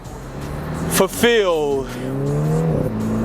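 A John Cooper Works Mini Cooper revs and accelerates hard close by, engine note climbing in pitch before settling into a steady drone, with brief crackling bursts from the exhaust and someone talking over it.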